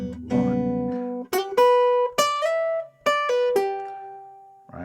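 Jazz guitar playing bar 47 of a tune, a short phrase of clean plucked notes with slides and sustained ringing tones, played solo and close.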